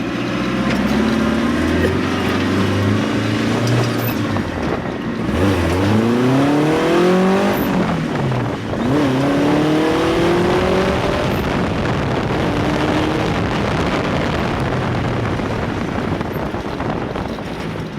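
A Joyner Trooper off-road buggy engine revs up and drops repeatedly as it runs through its five-speed gears, loud and close with wind buffeting the microphone.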